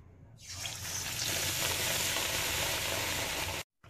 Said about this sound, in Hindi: अब मैं बैटर कोटेड बैंगन तेल में डीप फ्राई करूंगी